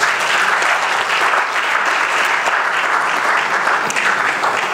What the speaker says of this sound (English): I thought you were going to applaud for this